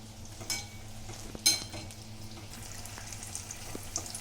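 Brinjal slices fry gently in oil over a low flame, a faint, steady sizzle with a couple of brief clinks and scrapes of a utensil against the pan.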